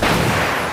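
A Water Style cannonball jutsu attack in the Naruto Online game lands as one loud, dense booming blast that fills the whole short moment and fades only slightly.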